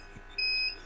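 A single short electronic beep sounds at a repair bench, faint and alone over a low background hum.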